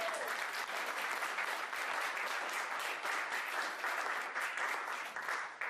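Audience at a Republican primary candidate forum applauds the candidates, dense sustained clapping close and loud throughout, steady with no letup.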